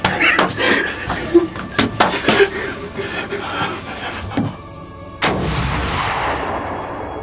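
A single loud rifle shot cracks outdoors during a deer hunt and echoes away over several seconds. Excited voices and bursts of talk come before it.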